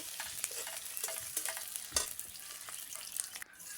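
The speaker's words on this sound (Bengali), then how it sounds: "মটরশুঁটিগুলো আমি ভালো করে বেজে নেব" Green peas fry in a pan for a cabbage recipe, a soft sizzle broken by scattered scrapes and stirring clatters, faint and close, with no voices.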